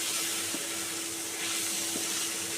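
Ground turmeric, Kashmiri chili and coriander powder hiss and sizzle in a hot pan as they are stirred in for chicken bhuna, a dense continuous frying noise with a couple of soft knocks.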